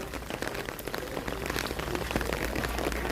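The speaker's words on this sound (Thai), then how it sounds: "วันนี้ฝนตกนะครับผม ต้องกางร่มกัน" Steady rain patters onto surfaces around a Thai temple with a golden-topped chedi, a dense, even hiss of drops with scattered close taps throughout.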